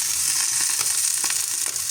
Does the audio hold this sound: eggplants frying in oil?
yes